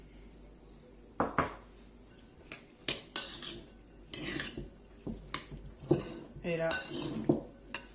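Pounded toasted rice mixed with brown sugar, heard as close metal utensils clinking and scraping against a bowl in irregular bursts, with a brief spoken remark near the start.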